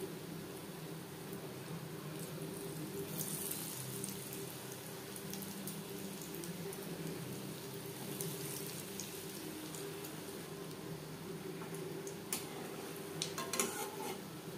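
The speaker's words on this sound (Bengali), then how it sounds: "আমি শ্যালো ফ্রাই করছি" Egg chops shallow frying in hot refined oil over low to medium flame, a steady soft sizzle and crackle running throughout with occasional faint clinks of utensils, no talking.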